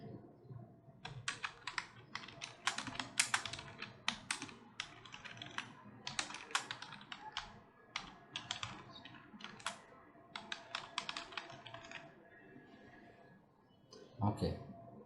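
Rapid bursts of typing on a computer keyboard, the clatter running in quick uneven runs with short pauses, close and fairly loud, with a final flurry of keys near the end.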